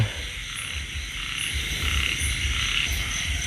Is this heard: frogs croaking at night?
yes